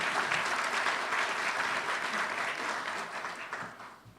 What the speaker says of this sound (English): May I ask you to give her a round of applause